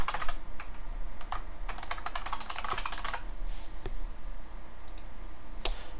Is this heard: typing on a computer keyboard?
yes